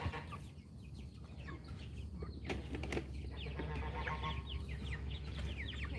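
Chickens cluck and chatter in a low, busy flock murmur during farm chores, with occasional louder squawks and a bit of wing flapping over a steady background rumble, fairly faint and without speech.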